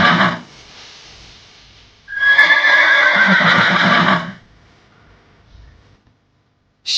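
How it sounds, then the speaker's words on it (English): A horse whinnies loudly in one long, shrill call lasting about two seconds, set between quieter stretches of noise, with a brief sharp sound at the very end. "Horse. This is a horse."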